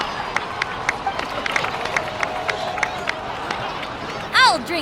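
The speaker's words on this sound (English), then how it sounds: "please give another round of applause for them" Crowd applause in the video game Genshin Impact, a busy patter of claps and murmuring voices from a gathered audience, followed by a brief bright swooping tone near the end.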